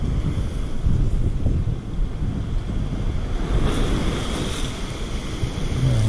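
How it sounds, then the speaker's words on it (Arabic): Rough sea waves break and wash continuously on the shore at a fishing spot, a loud churning surf mixed with gusty wind buffeting the microphone, with no speech. "البحر قاسح شويه هنا في هاد البلاصه"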